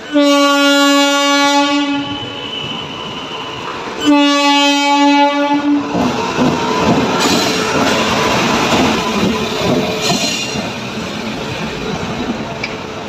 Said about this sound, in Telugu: నిన్న అమర్చిన ట్రాక్ పైన ట్రైన్ అయితే వస్తుంది